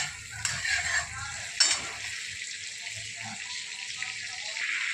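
Dry fish curry masala for tilapia fries in butter in a hot kadhai without oil, with a soft sizzle and scraping, clinking stirs near the start.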